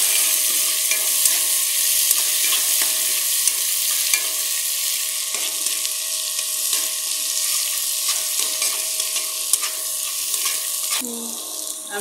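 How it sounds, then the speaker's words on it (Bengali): Sliced onions fry in hot oil with green and dried chilies for a tilapia fish dopeyaja, giving a steady close sizzle and hiss with faint stirring scrapes throughout. "আমি পেঁয়াজগুলোকে বেশি ভাজবো না"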